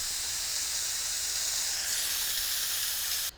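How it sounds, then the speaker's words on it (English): An Instant Pot releases steam after its valve is switched from sealing to venting: a loud, steady, close hiss that holds for over three seconds, then cuts off abruptly. "switch the valve that's in sealing over to venting"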